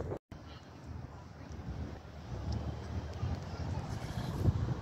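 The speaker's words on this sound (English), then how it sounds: "We're at Morecambe Bay, looking over to Barrow in Furness" Wind buffets the microphone by the sea at Morecambe Bay, looking across toward Barrow in Furness, a steady rushing roar with low surf rumble that swells slightly toward the end, with no one speaking.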